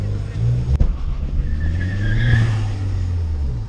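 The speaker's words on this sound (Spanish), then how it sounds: "no te voy a negar que chilla las llantas o quema las llantas cuando haces una salida algo brusca" A Ford Focus ST Mk3 launches hard and its tires squeal loudly in a rising screech over the engine's drone, heard close from inside the car with a sharp knock near the start.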